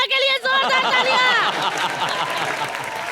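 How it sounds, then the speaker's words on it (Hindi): Audience applause on a live comedy show stage, with loud, dense clapping and cheering from a crowd under a harmonic musical tone that fades, continuing steadily throughout. "और हमारे धारावी के प्रभु देवा के लिए जोरदार तालियां।"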